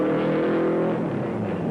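Novi Indy race car engine firing up and revving at a speedway during qualifying, a loud, close, throaty roar that holds strong and then shifts pitch as it pulls away, with no voices.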